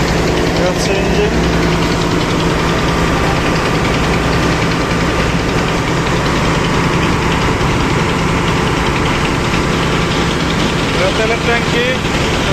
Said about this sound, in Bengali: এটা হচ্ছে ইঞ্জিন।